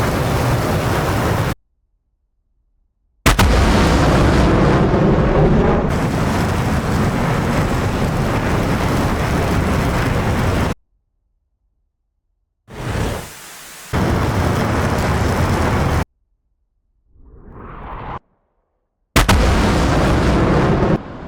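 Anti-radiation missiles launched in quick succession in a combat flight game, each launch a loud sustained roaring rush cut off by silence, with a rising whoosh between some of the launches.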